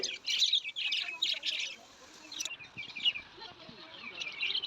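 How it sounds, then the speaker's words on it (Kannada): Various caged birds in a pet shop chirp and tweet in quick, overlapping bursts, fairly close and steady across the whole stretch, with faint voices in the background. "ತುಂಬ ವೆರೈಟಿ ಬರ್ಡ್ಸ್ ಕೂಡ ಇದ್ದಾವೆ"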